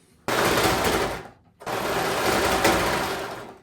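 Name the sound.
serger sewing jeans edges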